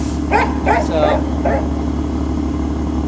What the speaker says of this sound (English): if you guys hear the dog in the background